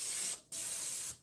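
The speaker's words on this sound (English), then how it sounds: "Let me do a quick spray on the sides." Cooking spray from a can hisses onto the sides of a baking dish in two short, close bursts separated by a brief gap.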